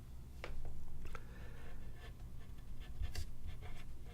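A pen writes a small times symbol by hand with soft, close scratchy strokes and light taps, quiet and alone.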